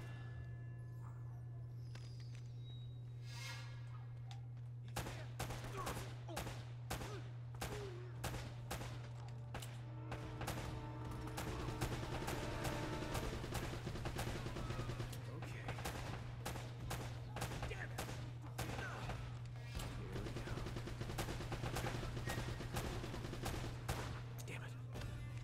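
Rapid, dense bursts of mounted machine gun fire and other gunshots fill a battle at the fortress in the video game Uncharted: Drake's Fortune, sustained and loud over a steady low hum.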